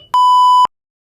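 A single clean electronic beep, steady and loud, lasting about half a second and then cutting off to silence.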